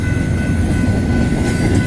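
BNSF intermodal freight cars roll past in Colorado Springs, a loud, close, continuous rumble of wheels and rattling wagons with a faint metallic ring throughout.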